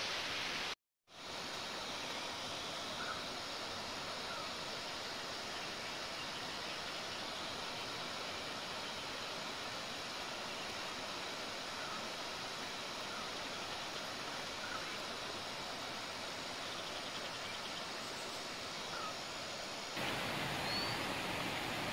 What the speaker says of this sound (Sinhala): ඔන්න අපි රිකිලි ඇල්ල හොයාගත්තා